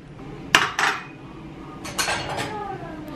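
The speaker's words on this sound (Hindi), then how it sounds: "देखिए बर्तन सुखा रही है" Dishes clinking and clattering as they are handled and dried in a home kitchen, a few sharp knocks near the start and a softer cluster of clinks later, close by.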